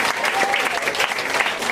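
A church congregation applauds, with a dense, steady wash of clapping hands filling the room, loud and continuous throughout.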